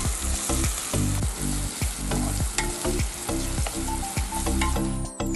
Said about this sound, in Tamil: ஆனால் இந்த அரேபியன் பிரியாணிக்கு நம்ம நல்லா ஃப்ரைட் பண்ணிடுவோம் வெங்காயத்தை